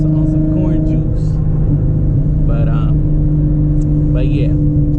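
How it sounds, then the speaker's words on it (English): Interior of a Nissan 370Z with bolt-on mods, tuned on E85, cruising on a highway: a steady low engine drone and road rumble throughout, with brief higher-pitched sounds and faint voices breaking through. "show you guys an inside view of how it sounds with the mods that I have on some corn juice"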